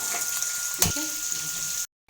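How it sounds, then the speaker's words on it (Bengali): Chopped onions frying in hot oil in a kadai for biryani on a gas stove, a steady close hiss and sizzle with a brief sharp crackle, cutting off abruptly near the end. "কিছু পেঁয়াজ দিয়ে একটু ভেজে নেবো"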